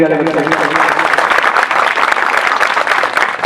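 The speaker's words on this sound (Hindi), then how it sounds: "तो इन सब के लिए एक जोरदार ताली बनती है।" A loud burst of clapping erupts at a school farewell in Kanker for the crew who set up the stage, dense and close, following a brief voice at the start and then continuing steadily.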